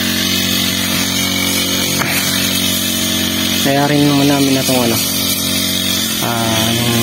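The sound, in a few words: grass cutter engine running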